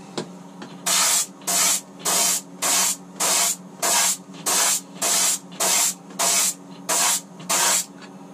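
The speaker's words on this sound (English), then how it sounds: "I'll start out by applying a base coat to all of the lures" Twelve evenly spaced bursts of an airbrush or spray gun laying white base coat paint onto fishing lures, each hissing spray lasting about half a second against a steady low hum, close and fairly loud.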